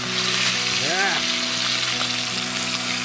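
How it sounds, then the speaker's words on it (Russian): Flour-dusted perch sizzles loudly and steadily in a hot pan on a camping burner outdoors, close by, with a brief whistling tone rising and falling near the start. "решили пожарить окуня и белую"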